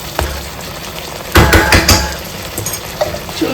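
Crab coated in masala fries in ghee in a pan, a low sizzle with a burst of clattering spoon-on-pan stirring and scraping near the middle.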